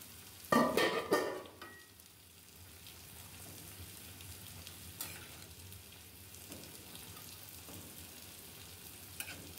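Rohu fish pieces slide into a bubbling curry of yardlong beans in a pan, giving a loud, close splashy sizzle for about a second before it settles into a low, steady simmering hiss.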